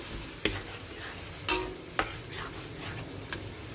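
Chicken with garlic, ginger, chilli and tomato paste is stirred in a pan under a faint, steady sizzle, with a few sharp spoon knocks against the pan standing out.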